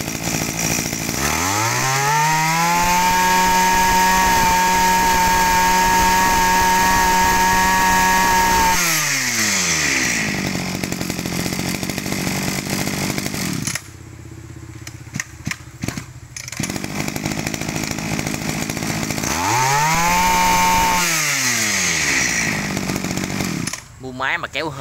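A Japanese-made secondhand brush cutter with a Kawasaki TG24 engine revs loudly in two long bursts, rising to a steady high whine and dropping back, with a rough idling gap between them.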